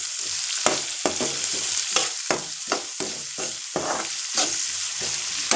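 Onions and curry leaves fry in a pan for stuffed bitter gourd palya, a close, steady sizzle broken by regular scraping strokes of a spoon stirring against the pan.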